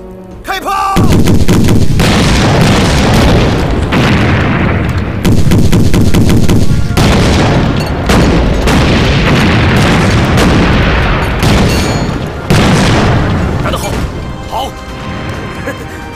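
Wartime artillery cannon fire and explosions on a battlefield: a rapid barrage of loud, heavy booms and blasts in close succession, nearly continuous for the whole stretch with only brief gaps.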